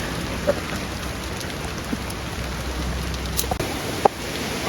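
Heavy rain falling outdoors in Jaffna during a memorial gathering, a dense, steady hiss of rainfall with a few scattered drips and knocks close by, no talking.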